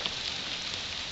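Steady rain patters down through the autumn woods on a hike, a dense, even hiss of drops on leaves and ground with no voices.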